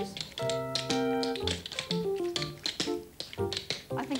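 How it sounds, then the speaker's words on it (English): Tap dancing shoes strike a hard floor while walking, giving crisp, close clicks in uneven clusters, with ringing tones sounding alongside them. "Do you think they sound like tap dancing shoes?"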